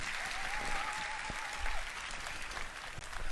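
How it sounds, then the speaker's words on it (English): An audience at a talk gives a round of applause, a continuous crackle of clapping from a crowd, fairly distant and even, with a faint tone under it. "Give yourselves a round of applause for being here."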